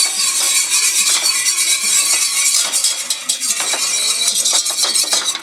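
Flour being stirred into melted butter in a pan for a cheese sauce, a loud continuous scraping and sizzling with quick clinks of the utensil against the pot, heard close up without voices.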